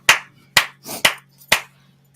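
Four loud, sharp hand claps come close to the mic at an even pace of about one every half second, with short quiet gaps and a faint hum between them.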